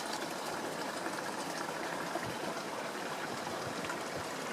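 A small creek with very little flow trickles steadily in a soft, continuous, even wash of water, heard close and alone without any voices.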